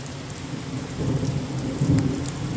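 Heavy rain falling during a thunderstorm in the Pyrenees, a steady wash of downpour with low rumbling swells of thunder building around the middle and again near the end.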